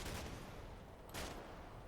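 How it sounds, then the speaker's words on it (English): Small arms fire in the war game Combat Mission Black Sea, a dense, steady crackle of distant shots with one brighter burst near the middle. "That's small arms fire?"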